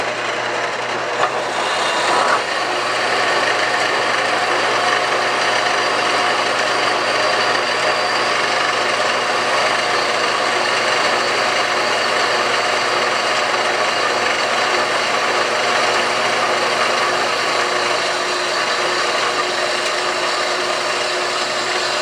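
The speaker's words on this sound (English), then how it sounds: "Definitely be faster to do the primary cut with the hacksaw, so I think I'm going to go do that." Hacksaw cutting through a metal ball joint part for a Datsun 521, a loud continuous rasping grind that holds steady and close throughout.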